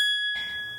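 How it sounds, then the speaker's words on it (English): A phone notification sounds a single bright ding that cuts off sharply and leaves a fading ring, loud and close. "I didn't add that, that's my phone"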